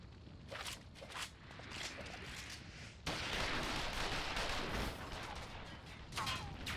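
Gunfire crackles in a Final Fantasy XIV cutscene, a few sharp shots early on followed by a dense, sustained burst of rapid fire, moderately loud amid busy action sounds.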